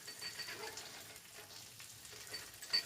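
Catfish fries in a pan with a faint, steady sizzle and a few soft crackles and pops, quiet and close, with no voices.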